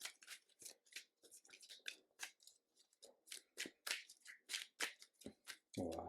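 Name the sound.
shuffling a deck of playing cards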